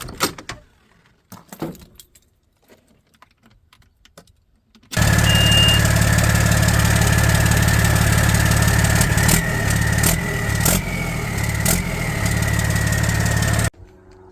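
Detroit Series 60 diesel in a Kenworth T600 turns over and fires after a few seconds of quiet clinks, then idles with a loud, steady rumble that drops away abruptly near the end.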